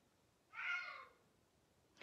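A single drawn-out cat meow, fairly faint, in a quiet indoor room.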